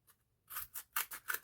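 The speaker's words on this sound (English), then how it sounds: "Scissors." Scissors snip through a piece of card for a handmade pink 40th birthday card, a faint tick followed by four crisp, evenly spaced cuts up close, with no voices.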